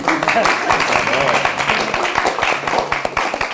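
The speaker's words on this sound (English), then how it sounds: "Round of applause for me." An audience claps steadily at a live talk show, the dense applause filling the space while a voice speaks over it.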